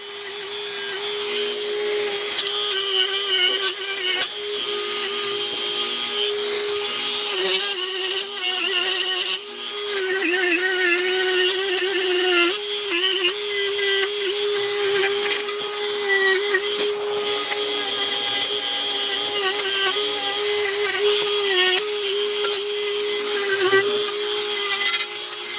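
Rust is being scrubbed off a 5th-gen Toyota 4Runner receiver hitch with a powered brush tool, giving a loud, steady, high-pitched whine that runs continuously for nearly half a minute, up close, with no talking.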